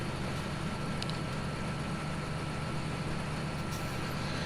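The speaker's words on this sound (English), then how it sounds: "So this is a 320 horsepower tractor, huh?" A 320 horsepower tractor driving in Farming Simulator 17, its engine a quiet, steady low drone that runs unchanged throughout with no one talking.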